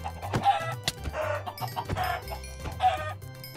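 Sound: hen clucking in Minecraft video game

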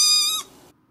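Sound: cat meowing

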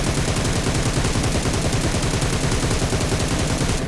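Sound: gunfire from a rifle without attachments in video game PUBG

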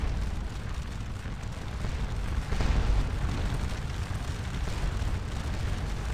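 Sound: artillery cannon fire in Scourge of War: Waterloo video game

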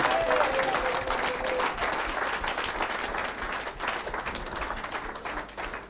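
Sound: church congregation applauding the Lord

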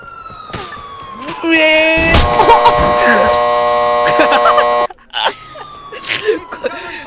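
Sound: police car siren in video game GTA IV

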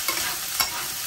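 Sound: chopped okra frying in oil

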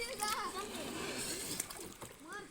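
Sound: boat being pushed into river water, splashing

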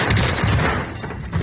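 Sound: gunfire in video game Call of Duty Warzone, Rebirth Island

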